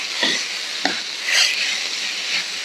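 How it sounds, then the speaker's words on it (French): Chicken strips cook in a wok, giving soft sizzling hisses with a few scraping stirs that rise and fall, fairly close and heard alone. "la viande est en train de cuire"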